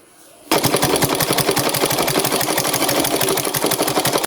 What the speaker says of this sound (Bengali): তো একটা উপর দিয়ে চাপ সেলাই দিয়ে নিচ্ছি,